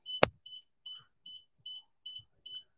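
An embroidery machine signals a thread break with a rapid series of short, high electronic beeps at an even rhythm, preceded by a sharp click, in a quiet room.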